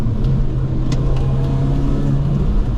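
An ageing car with about 199,000 km runs its engine at steady revs, a close, loud mid-pitched drone with a sustained hum and slight rises in pitch, with no voices over it.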